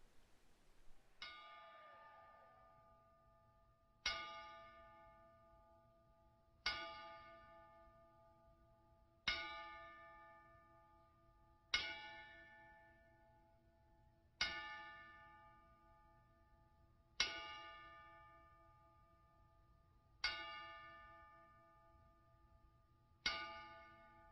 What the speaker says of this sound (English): we will be beginning the show this week with a 10-bell salute